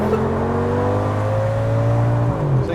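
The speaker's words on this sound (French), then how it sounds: "Ouais, j'accélère, vas-y." An Audi S8 V10 engine revs up under acceleration, a loud, steady, close roar with harmonic tones rising in pitch across nearly three seconds, then dipping slightly at the end.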